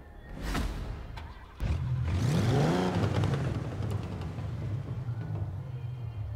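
A Toyota 2000GT engine in Forza Horizon 4 starts with a thump and revs up, rising and falling in pitch, then settles into a steady idling rumble.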